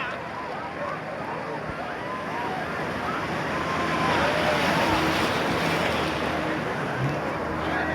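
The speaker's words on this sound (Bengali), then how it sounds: "ঢেউ আর ঢেউ, ঢেউ আর ঢেউ।" Sea waves and surf roll steadily on the way to Cox's Bazar, a broad continuous wash with wind noise across the microphone, building slightly louder midway and staying fairly close throughout.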